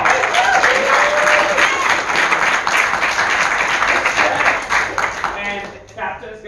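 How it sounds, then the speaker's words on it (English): Audience applause for three quiz-competition teams at a Latin certamen round, dense steady clapping from a crowd filling the room throughout, then thinning and fading toward the end. "Let's give it a round of applause."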